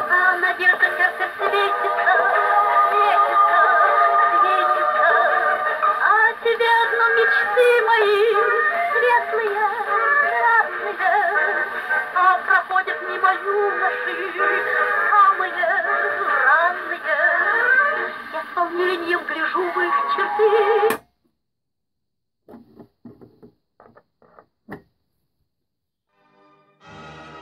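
An antique German NIRONA gramophone with a lighter sound head plays a record, giving a thin, boxy, mid-range music sound that runs steadily for about twenty seconds, then stops abruptly, followed by a few faint handling clicks.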